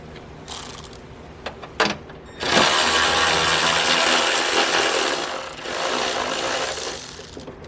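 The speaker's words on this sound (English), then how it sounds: "You got to take off the rain rail, which is literally just held on in 3 sections by a bunch of 10mm nuts." A power tool with a ratchet takes the 10mm nuts off the rain rail of an NA Mazda Miata. A few short bursts come first, then a long, loud spinning run with mechanical rattling. It is close and nobody talks.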